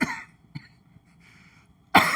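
One person gives a few sharp coughs, close and dry, with short quiet gaps between them and a louder, harsher burst at the end.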